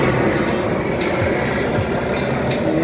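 A jet performing at an Indian Air Force Day display over Sukhna Lake, Chandigarh, gives a loud, steady, broadband roar that stays close and continuous through the short stretch, with no voices.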